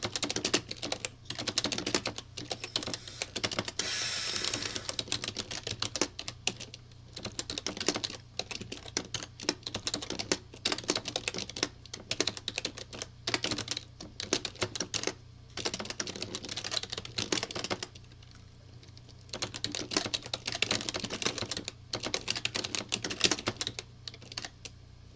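Steady rapid typing on a computer keyboard, dense clicking keystrokes running continuously with brief pauses, close and moderately loud, with no talking.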